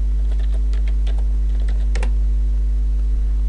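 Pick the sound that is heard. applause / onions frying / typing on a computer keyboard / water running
typing on a computer keyboard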